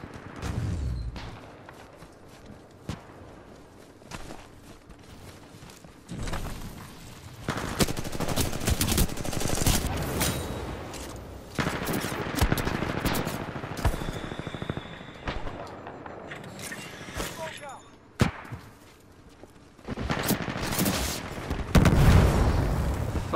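Gunfire in the multiplayer shooter Titanfall 2: repeated rapid bursts of automatic weapon fire mixed with heavier booms and explosions, rising and falling in intensity across a busy firefight.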